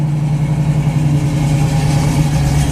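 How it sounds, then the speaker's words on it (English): The engine of a 1967 Pontiac Firebird Convertible runs at a steady, loud idle, a deep, even rumble heard up close with no voices over it. "we're gonna go for a ride here in a really nice 1967 Pontiac Firebird Convertible."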